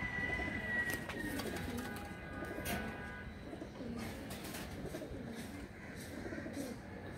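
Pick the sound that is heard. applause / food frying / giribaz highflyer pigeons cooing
giribaz highflyer pigeons cooing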